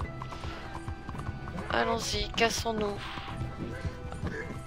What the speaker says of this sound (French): Mon cheval il est pas content.